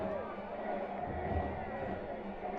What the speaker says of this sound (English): Hear the crowd reaction as well.